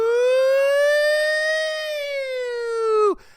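A voice imitates an ambulance siren with a long, loud, sustained wail that rises slightly, holds, then drops sharply and cuts off.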